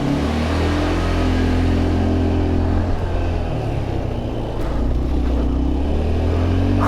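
A scooter engine revs and accelerates sluggishly on a cold day, a steady, loud mid-pitched drone with a slow rise in pitch, heard up close and with no talk over it.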